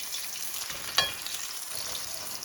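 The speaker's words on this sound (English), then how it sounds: "our fish is ready to come off the frying pan" Panfish sizzles and crackles steadily in a frying pan, a continuous soft frying hiss with a brief louder spit partway through and no talk.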